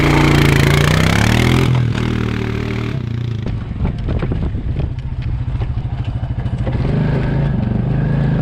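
A quad ATV with a welded tie rod churns through mud, its engine loud and close, revving hard and surging then settling into a rough, pulsing drone with clattering from the machine throughout.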